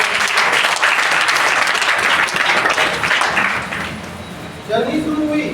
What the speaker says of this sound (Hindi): तो उनके लिए भी एक बार जोरदार